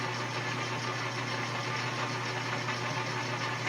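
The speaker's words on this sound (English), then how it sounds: "when I start reaming, it doesn't bother me to push it a little bit" A reamer cuts into a Kimber pistol during gunsmithing, a steady machine hum with a low, continuous grinding buzz and faint vibration, unbroken across the clip.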